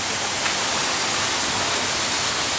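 A waterfall, Lakedang falls on Gunung Maras, roars steadily, a dense, even rush of falling water that fills the clip without any breaks or voices.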